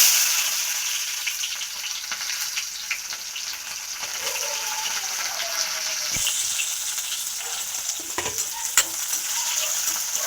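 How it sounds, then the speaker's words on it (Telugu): Onion, mustard seeds, cumin and bay leaves frying in oil produce a steady, bright sizzle with stirring scrapes and a few clicks, heard up close without speech. "కొంచెం దోరగా వేయించుకున్నాక బాగా ఫ్రై చేసుకోవాలి"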